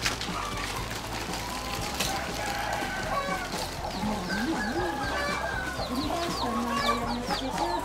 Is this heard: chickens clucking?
yes